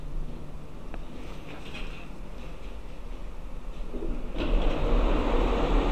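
Steady low rumble of a railway station interior with distant rail noise, swelling louder near the end as a train or engine approaches.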